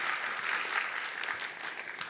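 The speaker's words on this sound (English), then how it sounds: "a big round of applause." An audience at a civic presentation on downtown city projects claps in a soft, steady round of applause heard from a distance, even and continuous across the short stretch.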